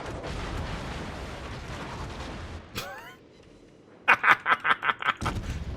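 Enemy ship's naval guns in World of Warships firing in a quick run of sharp, booming shots near the end, after a stretch of rumbling battle noise and a brief quieter gap.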